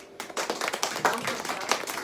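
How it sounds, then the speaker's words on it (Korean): Students at a winter school orientation clap to welcome three teachers, a quick burst of individual claps starting sharply and continuing at moderate level with distinct uneven hits. "자, 우리 3명의 선생님들 박수로"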